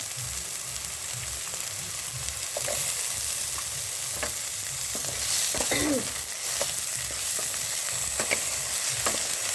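Cauliflower pieces fry with beans and potatoes in an oiled pan for vegetable chowmein, giving a continuous close sizzle broken by clinks and scrapes of a stirring utensil, with no voices.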